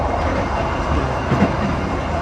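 An executive train runs on track between Medan and Araskabu at about 90 km/h, giving a continuous, loud rumbling roar with faint rhythmic wheel clatter heard from inside the carriage.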